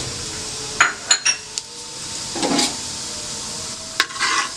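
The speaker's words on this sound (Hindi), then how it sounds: "अब मैं इसके अंदर सफ़ेद ज़ीरा और छोटी इलायची डाल दूँगी।" White cumin seeds and green cardamom sizzle in hot mustard oil on a stove: a steady, soft frying hiss broken by sharp clinks and scrapes of a spoon stirring against the pan.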